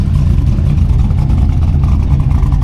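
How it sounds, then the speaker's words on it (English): Car engine idling, tuned from a 2002 Camaro manual-transmission setup and running an LSA 109 cam, a loud, close, deep rumbling idle with a slightly uneven, lopey pulse that holds steady throughout. "now I'm just idling in the airflow for the idle"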